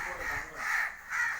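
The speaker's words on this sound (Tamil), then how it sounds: "காக்கா வந்துருச்சு, காக்கா வந்துருச்சு." A crow caws three times in a steady, evenly spaced rhythm, harsh and fairly close, with a faint background murmur.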